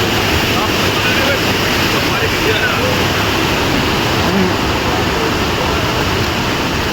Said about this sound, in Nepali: हेरौँ न झर्ना